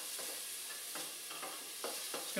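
Onions softening in a pan for mushroom risotto with red wine, stirred in several soft scraping strokes over a faint, quiet sizzle.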